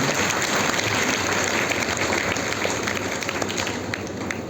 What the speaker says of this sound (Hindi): चलो ताली बजा लो अपने लिए